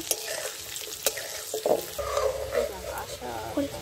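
Potatoes fry in oil seasoned with salt and turmeric in a home kitchen pan, making a steady close sizzle with bursts of stirring and scraping throughout.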